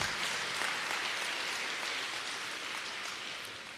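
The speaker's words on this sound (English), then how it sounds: "Give them a round of applause." A ceremony audience applauds certificate recipients, a broad, even patter of clapping that slowly fades, moderately quiet.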